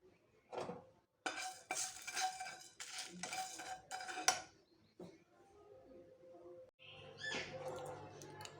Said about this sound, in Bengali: আমি গ্যাসে একটি ফ্রাই প্যান বসিয়ে দিলাম। এবার এই মশলাগুলি ভেজে নেব